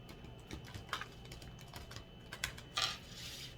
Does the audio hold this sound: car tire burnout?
no